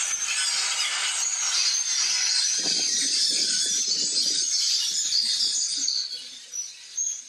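A flock of grackles fills the air with dense, harsh, buzzing and creaking calls, a continuous loud chorus that eases off near the end.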